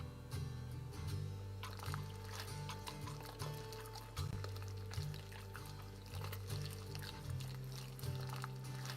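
A brewing ingredient being poured in the Brewmaster brewing game, a soft steady stream with intermittent low thuds and tonal hums, faint and continuous throughout.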